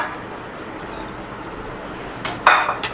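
Plates clinking as they are set down on a surface near the end, a couple of sharp ceramic knocks after a quiet stretch of room tone.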